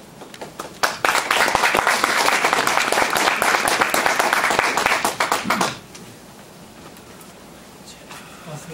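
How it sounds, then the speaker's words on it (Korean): Audience applause welcoming a Won Buddhist minister to the stage, a burst of dense clapping that rises abruptly, holds steady for about five seconds, then cuts off and leaves quiet room tone. "장희한 교무님을 박수로 맞이하겠습니다."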